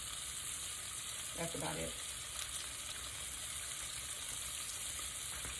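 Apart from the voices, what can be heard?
ground beef sizzling in a pan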